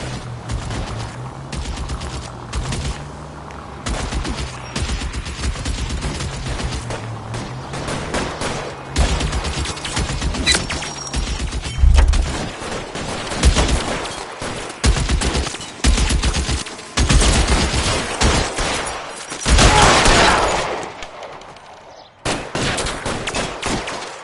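Sustained gunfire from a video game shootout in L.A. Noire, with overlapping bursts and rapid machine-gun volleys crackling loudly and continuously over a low game soundtrack before a brief cut of silence.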